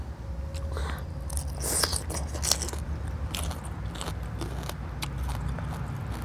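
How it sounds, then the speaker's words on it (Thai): Plain pork rinds are pounded in a mortar, making close, irregular crunching and crackling strikes over a steady low background hum. "ผมตำแต่แคบหมูธรรมดาจ้ะ"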